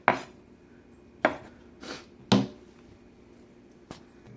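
Knife making a few quick chops through food on a cutting board for a potato, shrimp and bacon chowder, four or five sharp separate knocks spaced irregularly, close and clear with no talking.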